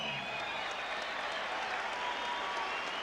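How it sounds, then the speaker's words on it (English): Steady applause from a boxing crowd at the State Fair in Phoenix, Arizona, a dense wash of clapping that holds at an even level throughout. "A round of applause, please, for John Michael Johnson."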